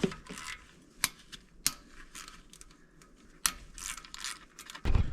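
Hand ratchet working 8mm valve cover bolts on a Suzuki Carry SOHC F6A engine, heard as a few sharp metallic clicks and clatters spread over quiet gaps, close by with no talking.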